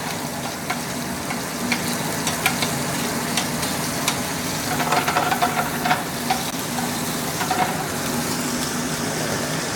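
Food sizzles and fries steadily in a hot pan as pieces are flipped, with a continuous loud hiss broken by a few light scraping and tapping clicks.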